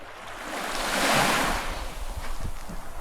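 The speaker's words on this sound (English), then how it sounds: "this ocean sunset with the waves coming in" Ocean waves roll in on the Japanese coast at sunset, a soft wash of surf that swells to a gentle peak and then recedes into a lower rumble, with some wind buffeting and no talking.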